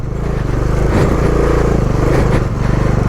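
A Bajaj Dominar motorcycle engine pulls uphill on a mountain ride in Spiti, a loud, steady, close throbbing drone with a slight swell partway through and no voices.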